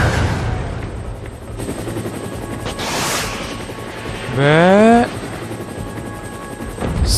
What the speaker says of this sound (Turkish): Helikopter onu takip ediyor.